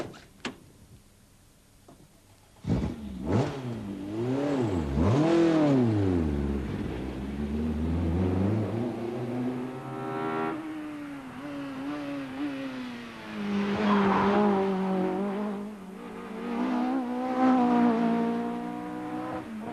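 A 1992 British Touring Car Championship Vauxhall race car engine revs up and down through gear changes as it laps a short circuit, loud and continuous, with no talking.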